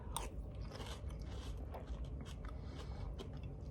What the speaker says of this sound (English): Let's find out about that wet crunch for the last little detail here.